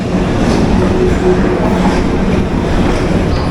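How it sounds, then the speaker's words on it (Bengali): A Bangaon local train pulls away from platform seven, a steady, loud rumble of wheels and carriages rolling close by without a break. "ট্রেন এখন সাত নম্বর প্ল্যাটফর্ম থেকে বেরোচ্ছে"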